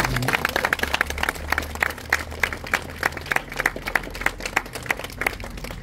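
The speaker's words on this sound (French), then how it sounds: "vous pouvez les applaudir bien évidemment." An audience at a 14 July commemorative ceremony in Hermes applauds a military band, with a stretch of brisk, scattered clapping from a modest crowd and a low murmur underneath.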